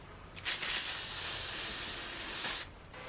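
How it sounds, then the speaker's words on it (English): Hydrating makeup setting spray misted from a bottle in one steady hiss lasting about two seconds, close and fairly loud, with quiet before and after. "sometimes I go in with a refreshing, like a hydrating setting spray throughout the day"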